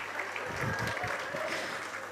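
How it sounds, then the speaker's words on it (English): Audience applause at a graduation ceremony, a steady wash of clapping lasting a couple of seconds at moderate loudness, with a faint murmur of voices beneath. "So a round of applause for yourselves again."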